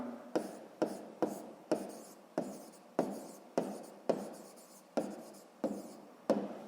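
Pen or pencil writing out a 6th-grade math exercise on paper, a steady series of about a dozen scratchy strokes, each starting with a sharp tap. The strokes fall in a regular rhythm, close and fairly loud, with no voices.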